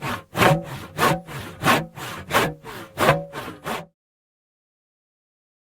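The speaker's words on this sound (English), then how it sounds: "handsaw" A handsaw cuts through wood in about nine steady back-and-forth rasping strokes, close and clear, then stops and leaves silence.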